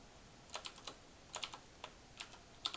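Light clicks of typing on a computer keyboard into a search field come in short irregular bursts of a few keystrokes, faint and close with nothing else around.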